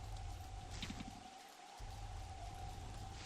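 In the video game Don't Starve, rain falls in a steady, even hiss, mixed with a low rumble and a faint sustained tone, with no talking.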